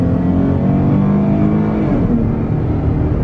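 A Dodge Charger GT accelerating on a test drive, heard from inside as a loud, steady engine drone with rising harmonic whine over several seconds, with no talking.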